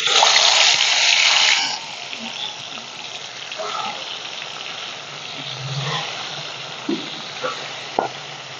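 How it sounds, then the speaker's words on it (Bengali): Katla fish pieces fry in hot mustard oil in a wok, a loud crackling sizzle at first that quickly settles into a quieter, steady bubbling with a few scattered clinks and pops. "কড়াইতে দিয়ে দেবো সর্ষের তেল, দিয়ে মাছগুলো ভেজে নেব"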